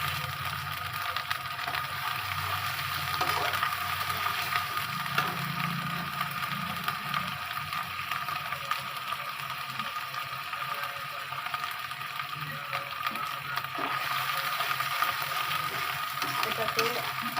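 Onion frying in a pan with a spoonful of ginger garlic paste, giving a steady close sizzle with occasional stirring, while faint speech runs underneath.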